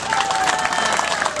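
Applause from the audience at a festival opening for a radio journalist serving as juror, a brief dense patter of clapping with crowd murmur and a voice over it.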